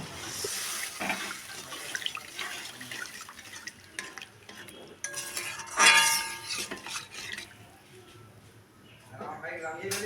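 Spiced curry for a no-onion, no-garlic paneer kofta dish being stirred in a pan after hot water goes in, with scraping, clinking and liquid swishing in uneven bursts and a louder clatter midway, under and between speech.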